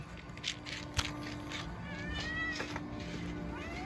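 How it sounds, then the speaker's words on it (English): Several cats meow and yowl overlapping, close by, with faint clatter in the background. "Boy, those cats are hungry."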